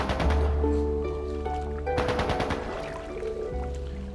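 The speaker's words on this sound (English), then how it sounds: "Is that gunfire? Sounds like it's a little ways from the village." Gunfire in the distance in the video game Trails into Reverie: bursts of rapid shots roll over a layered musical backdrop, with a sharp swell partway through.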